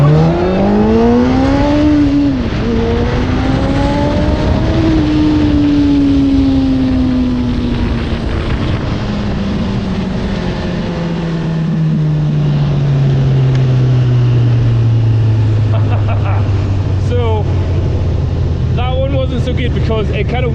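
A Honda CB1000R motorcycle revs hard and launches from a standing start, its engine note climbing sharply through the gears and then fading as the bike pulls away, with wind roar throughout.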